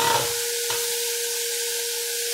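Butter sizzling in a hot pan with vegetables and fish, a steady bright hiss of frying that holds evenly throughout, close and continuous with no talk.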